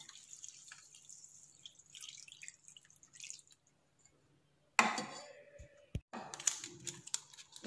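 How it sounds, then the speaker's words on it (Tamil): Water is poured into a pan (kadai) for cooking noodles. After a quiet stretch with faint clinks, a sudden close splash and trickle starts, broken by a sharp knock and more splashing, with no talking. "இல்லை வாட்டரை ஊற்றிக்கோங்க."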